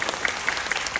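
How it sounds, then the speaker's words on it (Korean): A short burst of applause from an audience at a film festival guest talk, steady clapping filling the whole moment with no voices. "우리 이수영 감독님께도 박수 한번 더"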